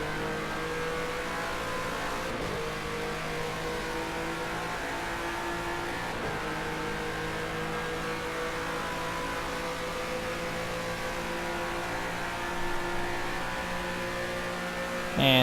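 Car engine in the game Time Loop, revving steadily at high pitch with a sustained, buzzing drone for the whole stretch, loud and close, with small pitch shifts and a brief swell near the end.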